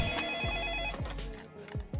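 A telephone rings in repeated electronic bursts with a steady rhythm, heard clearly and alone.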